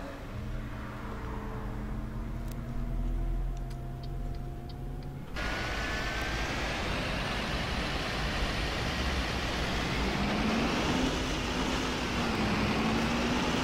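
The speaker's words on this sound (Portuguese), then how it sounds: "Escuta um pouquinho o som do motor aí." Busscar Elegance 360 coach engine, 360 hp, with a Scania 8-speed transmission, heard during a night drive in the EAA Bus simulator game: a loud, steady drone that drops sharply at a gear change, then climbs gradually in pitch.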